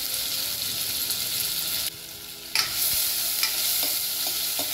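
Chopped onion frying with cinnamon pieces, cloves and cardamom in a pressure cooker for rajma curry, a steady close sizzle with a brief dip partway and a few stirring scrapes and clicks.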